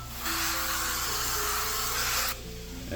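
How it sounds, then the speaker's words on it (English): A steady hiss of oil sprayed over peppers and onions frying in a pan lasts about two seconds, then stops, leaving the quieter sizzle of the pan underneath. "we're gonna spray them with a little more oil"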